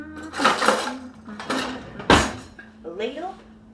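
A ladle clattering among pots, pans and utensils in a home kitchen while spaghetti squash is being cooked, with several sharp close metallic clanks and knocks and a person talking over them.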